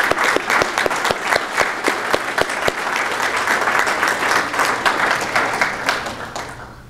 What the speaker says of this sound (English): Everyone, please give Carla a round of applause again.